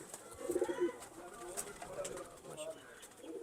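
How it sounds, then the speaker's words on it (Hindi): A pure Aseel pigeon coos in soft, low repeated rolls at close range, with faint voices in the background. "प्योर असील कबूतर है जी माशाल्लाह"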